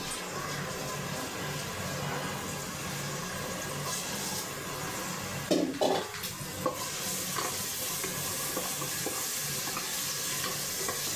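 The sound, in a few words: tempering garlic and onion in hot oil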